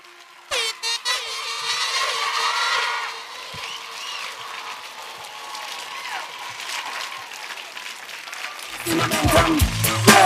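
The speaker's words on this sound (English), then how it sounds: "Give us a loud applause" A crowd at an outdoor political campaign meeting claps and cheers, the loud applause mixed with blaring air horns, fading through the middle and surging again near the end.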